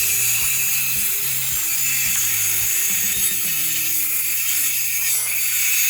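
A table saw rips a board on a simple sled jig: a loud, close motor whine with shifting tones and some rattling as the blade cuts through the wood, running throughout with no voices.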